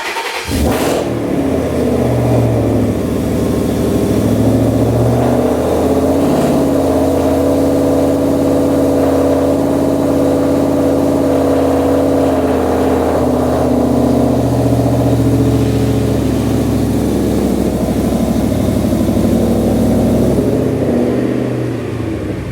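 A car engine, in a garage where sound echoes, fires up after a quick crank and runs loud and steady, revving in swells over a deep rumbling idle, with no talk.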